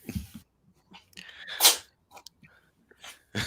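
A small dog sneezes sharply several times, a loud burst in the middle, with soft snuffling breaths between, close by and quiet otherwise.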